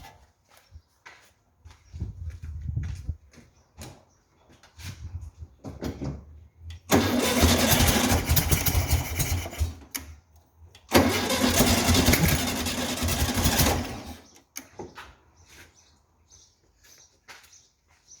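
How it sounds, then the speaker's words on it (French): A VW Beetle's air-cooled engine cranked by the starter after an electronic ignition was fitted, two loud sustained bursts of a few seconds each, with quieter handling noises before and between. "On va aller mettre un coup de démarreur"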